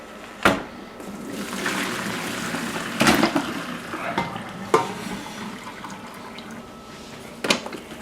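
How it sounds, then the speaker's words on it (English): Water from boiled potatoes pours and splashes into a sink with intermittent clunks and knocks of a pot, a continuous running gush underneath. "Just drain them in the sink there"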